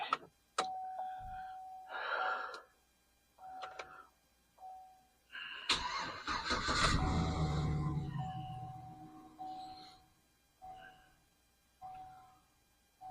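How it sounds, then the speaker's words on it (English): A Chevy truck with a weak battery cranks slowly and starts, giving a loud, rumbling surge that settles into a low idle, amid repeated short electronic beeping tones before and after. "we used the battery to start the truck, and it started"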